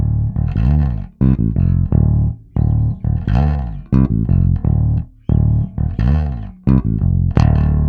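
A bass guitar plays the opening two bars of a bass line, loud and close, with distinct plucked notes in a steady rhythmic pattern and short gaps between phrases.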